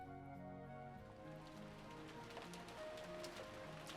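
Steady, soft patter of rain falling on a surface, constant throughout beneath faint low tonal hum.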